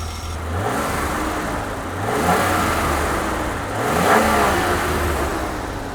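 A 41-year-old BMW E21 323i engine revs repeatedly, its roar rising and falling in several throttle blips over a steady running note, close and loud with no talking.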